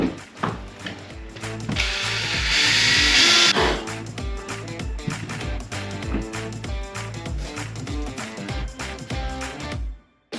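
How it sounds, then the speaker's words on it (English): A power drill bores a bigger hole during a Skylight calendar install, whining in short bursts with a loud, gritty stretch of cutting in the middle, close up, amid clunks and handling noise. "we've got to drill a little bigger hole"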